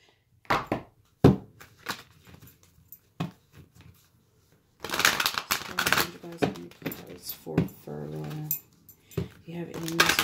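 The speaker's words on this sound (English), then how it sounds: "I'm gonna pull some romance angel cards for you." Romance angel cards are shuffled and pulled by hand, giving soft scattered card flicks and taps, then a longer busy stretch of handling while a person talks in the middle and near the end.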